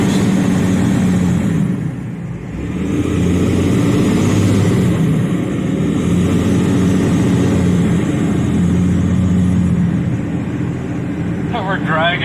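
An engine drones low and steady while an old Mercedes car is dragged along on its wheels, a loud continuous rumble with people talking over it.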